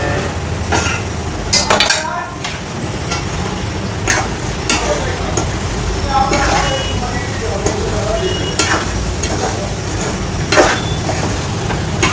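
Chicken curry with oil, chilli powder and masala frying loudly in a pan, with a constant sizzle under repeated scrapes and metallic clinks of a spoon stirring against the pot.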